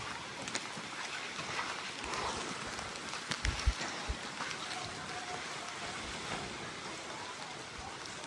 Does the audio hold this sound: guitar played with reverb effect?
no